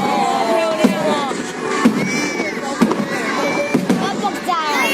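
Fireworks burst at a seaside fireworks festival in Penghu, with several sharp booms spaced through a dense, continuous crowd roar of cheering and chatter, voices talking and exclaiming throughout.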